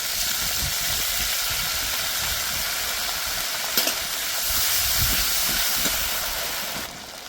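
Soybean curry masala with ginger paste, besan, turmeric and salt sizzles and hisses steadily in a pan while being stirred, with a few scraping strokes over the constant frying noise and no talking.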